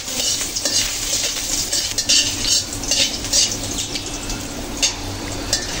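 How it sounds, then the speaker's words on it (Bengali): Chopped garlic fries in hot oil with bay leaf and is stirred in the pan. A steady, close sizzle carries scattered scrapes and clinks from the stirring utensil throughout. "এই রসুনগুলো হালকা ব্রাউন কালার করে ভেজে নেব"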